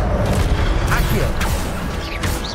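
Accio summoning spell effect in Hogwarts Legacy: a dense, close burst of magical whooshing and mechanical creaking layered with rumble and a few crashing hits, sustained throughout under a busy game soundscape.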